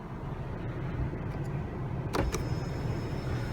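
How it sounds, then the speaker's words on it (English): Power moonroof on a 2016 Honda HR-V EX sliding open, a low steady motor whir inside the cabin with a couple of faint clicks partway through. "a feature that comes in the EX is our power moonroof"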